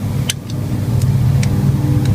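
An old car engine revs hard and steadily nearby, a continuous low rumbling drone with a few faint higher ticks on top, no speech.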